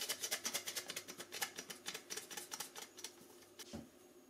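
Flour sifted over a Lidl Silvercrest Monsieur Cuisine Plus kitchen machine gives off rapid, soft tapping and rattling in a steady, quiet rhythm that slows near the end.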